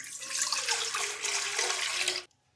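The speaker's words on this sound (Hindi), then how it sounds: "सबसे पहले हमने एक बर्तन लिया है और इसमें डालेंगे 1 गिलास पानी।" A glass of water poured into a cooking pot while making Kashmiri chai, a steady close splashing rush that runs about two seconds and then stops abruptly into near silence, with no voices.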